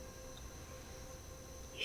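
A steady high-pitched drone of cicadas hums continuously through the night air, faint and even, with low rumbling background noise underneath.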